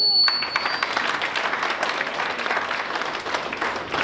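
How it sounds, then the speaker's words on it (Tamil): Applause from an audience at a Pongal pattimandram debate, a dense, steady wash of clapping from many hands that carries on through the whole stretch, moderately loud. "ஆமான்னா கை தட்டுங்க."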